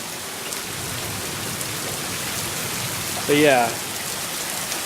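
Heavy rain falls steadily outside a garage, a dense even hiss throughout, with someone briefly speaking near the end.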